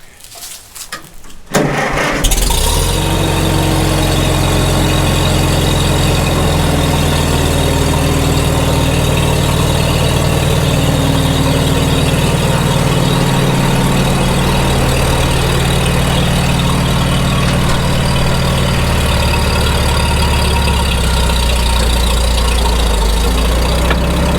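A vintage tractor engine, given a little throttle and choke, catches after a brief crank and settles into a loud, close, steady low idle that rumbles on without a break.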